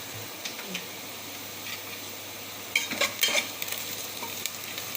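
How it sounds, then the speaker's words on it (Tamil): Prawns deep frying in oil for a Kumbakonam-style prawn biryani, a soft steady sizzle with a few clicks of a spoon stirring partway through. "நல்லா டீப் ஃப்ரை ஆயிட்டு இருக்கு"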